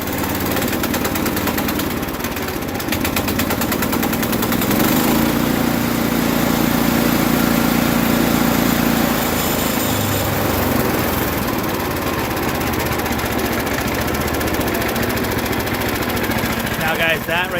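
A Woodmax woodchipper's small engine runs loud and steady after a cold start with the choke on, a constant close mechanical drone with rattling vibration throughout and someone talking over it.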